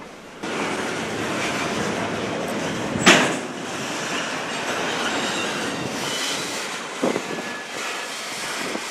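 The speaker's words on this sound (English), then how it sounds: "As the intermodal train entered into the yard, the coal train got started off again." A coal freight train rumbles steadily through a rail yard in Columbus with rolling wheel noise and occasional metallic clanks and squeals, continuous and fairly loud, with no voices.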